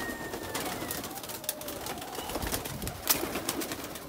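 A blue pigeon coos softly amid faint background noise, with a few low murmuring calls spread across several seconds.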